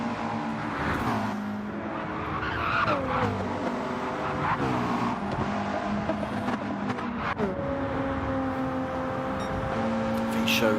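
Race cars speed down the start-finish straight at Fuji. Several engines whine and rise in pitch as they accelerate and pass close by, one after another, with brief shifts and a faint commentary voice underneath.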